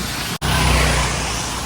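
Traffic on the Mumbai-Goa highway after rain: a broad, steady roar of vehicles passing on a wet road, close and loud, with a brief cut near the start.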